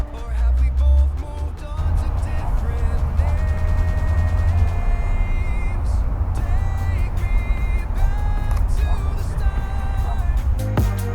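Traffic of nearby cars rolls past in a continuous loud rumble, with engine drone and tire noise swelling and fading, mixed with scattered tonal squeaks and background clatter.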